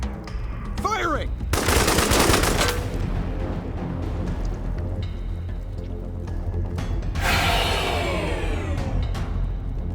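Gunfire in the video game Wasteland 3: a short burst of rapid shots, then a loud sustained volley, and another heavy stretch of firing later, with game sound and battle noise throughout and no talk.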